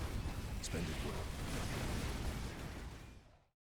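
An explosion in a video game: a loud, broad rumbling blast that sustains heavily and then cuts off abruptly near the end.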